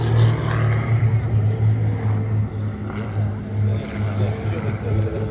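Aerobatic team aircraft, including the white-and-red planes of an air show display group joined by one dark aircraft, drone steadily overhead at a military aviation centenary show, a continuous loud engine hum under a commentator's voice.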